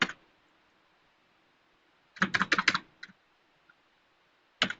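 Computer keyboard typing in quiet room, a single tap, then a quick burst of several keystrokes, a couple of stray clicks and one final key press, crisp and close.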